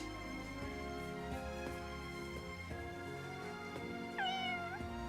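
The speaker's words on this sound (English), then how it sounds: "Cat." A cat meows in Fire Emblem Engage, one short rising-falling call near the end over steady game music with no talking.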